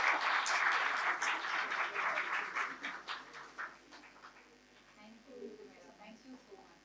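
Applause from a university event audience at SZABIST's Faculty of Management Sciences, clapping loud at first and then thinning and fading away, with voices chattering faintly underneath toward the end.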